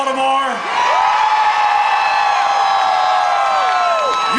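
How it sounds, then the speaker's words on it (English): Large outdoor crowd cheering at a Baltimore Ravens Super Bowl send-off rally, loud whoops and sustained shouts layered over a steady roar, swelling after a brief dip and continuing without pause. "look at this crowd"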